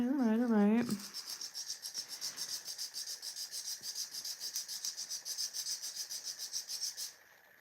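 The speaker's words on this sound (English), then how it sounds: "I really feel like I'm over filing, but I'm not." A nail file rasps rhythmically across acrylic nails in quick, steady back-and-forth strokes, close and fairly loud, for several seconds after a brief vocal sound at the start.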